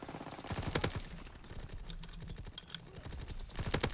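A Sten submachine gun in Call of Duty WWII fires in rapid, tightly spaced bursts of sharp cracks, loud and close, with short gaps between the volleys.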